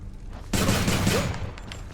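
A gun fires in the video game Hades, a sudden loud burst of rapid shots that sets in after a short quiet lead-in and rumbles on to the end.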